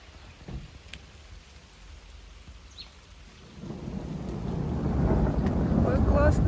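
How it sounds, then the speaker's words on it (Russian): Rain with thunder: a low, rolling rumble builds as rainfall grows steadily heavier and louder, pattering densely by the end, with no talk over it. "Какой классный дождик!"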